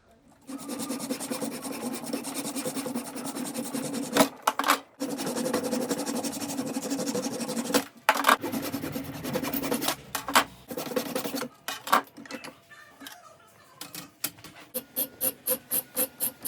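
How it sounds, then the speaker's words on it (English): A wood block is shaved down a little at a time to fit into the shell of a Tama Artstar II drum under repair, giving long continuous close rasping strokes with brief pauses and a few quicker scrapes at the end. "I've been shaving tiny bits off at a time"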